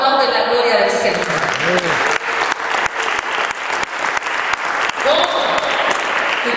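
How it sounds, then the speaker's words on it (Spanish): A church congregation claps loudly and steadily during a Spanish-language service, with a voice calling out over the applause. "¿Cuántos aplauden la gloria del Señor?"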